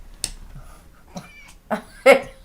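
An indoor cat being picked up gives a few short, strained meows and grumbling cries, close and fairly loud, spaced across a couple of seconds.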